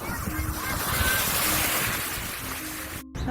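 Ocean surf washes in at Coco Beach in Dar es Salaam, a continuous broad roar of waves mixed with wind buffeting the microphone.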